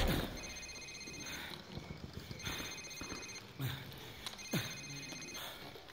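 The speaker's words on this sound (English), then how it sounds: "Sir, it's his cell phone." A cell phone rings in Call of Duty 4: Modern Warfare, its electronic ring repeating in steady bursts over low game rumble and scattered thumps.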